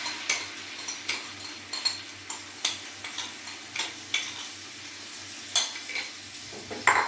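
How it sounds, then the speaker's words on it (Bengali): Cauliflower korma with sour yogurt, salt and turmeric being stirred in a pan, with repeated spoon scrapes and clinks against the metal at a steady rhythm over a faint background. "দিয়ে আমি ভালো করে এটা নাড়বো।"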